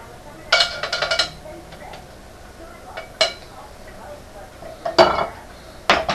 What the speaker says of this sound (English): you stir it around some, it begins to thicken